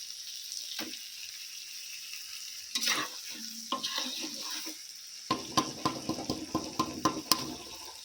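Mutton pieces being sautéed in a pan, a low sizzle with occasional spoon stirs early on, then a run of rapid, close scraping and clattering strokes toward the end.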